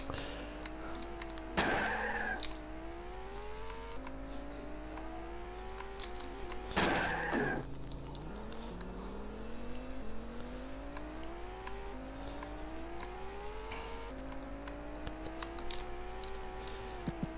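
Engine drone from an F17 Challenge Formula One racing game on the Amiga, rising and falling in repeated sweeps as gears change through laps, with two brief bursts of noise around crashes or gravel, steady and fairly loud throughout.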